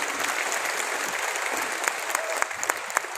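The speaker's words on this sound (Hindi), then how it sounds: "एक बार जोरदार तालियां हो सकती है वेस्टीज के लिए" Loud, sustained applause from a large audience at a Vestige company event in Delhi, dense clapping filling the hall with a few sharper claps standing out toward the end.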